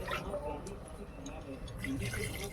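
Water poured into mutton curry cooking in a pot on a village clay stove, a steady liquid dripping and filling sound running through the short stretch with no talk over it.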